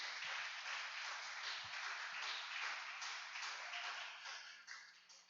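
Church congregation applauding during a worship service, a steady, dense wash of clapping from many hands filling the room throughout, with no talking over it.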